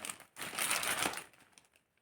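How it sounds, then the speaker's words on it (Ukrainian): A plastic zip bag crinkles close up in a short burst of dry rustling that peaks quickly and then fades into a few light crackles. "Поставлю його у зіп-пакет."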